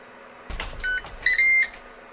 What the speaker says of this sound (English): 10 minutes are up, the unit beeps